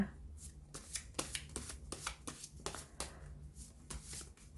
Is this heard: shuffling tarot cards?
yes